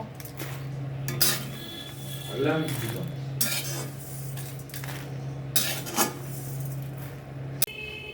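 Whole cumin, coriander and fennel seeds are stirred in a pan for a tamarind pickle, with a steady hum under repeated scraping and clinking of a utensil against metal, a few sharper knocks standing out.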